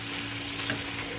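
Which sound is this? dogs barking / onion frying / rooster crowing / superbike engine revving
onion frying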